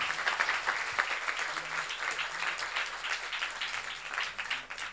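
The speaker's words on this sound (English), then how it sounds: "And a round of applause to Adina and Todd." An audience at an art forum panel applauds the guests, sustained clapping with individual claps audible throughout, no speech on top.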